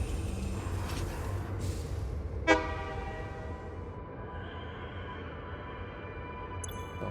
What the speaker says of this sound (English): This train will get moving in a moment.